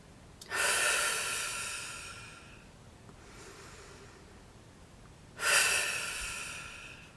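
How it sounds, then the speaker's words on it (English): Deep meditative breathing, two long broadband breaths about five seconds apart, each loud and airy at onset and tapering slowly, with a faint softer breath between them and no talking. "So I'm going to sit here and breathe,"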